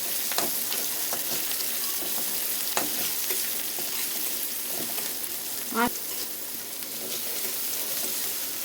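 Onion and cumin seeds frying in oil in a kadai for a yogurt potato kurma, giving a steady close sizzle with scattered spatters and light stirring scrapes, and no talk.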